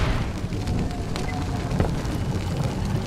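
A deep, rumbling explosion in the Western shooter Call of Juarez: Gunslinger, a dense low roar that fills the whole stretch with a few sharper crackles over it and no speech.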